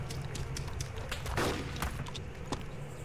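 Gunfire in the DayZ mod of ARMA 2, a sharp shot standing out at mid-clip over steady background noise, with a few fainter thumps around it.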